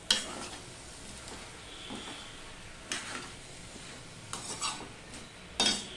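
Boiled cabbage being stirred and turned over in a pan for a vegetarian Saraswati Puja dish: intermittent scraping and clinking strokes over a soft background sizzle, with sharper knocks near the end and no talking.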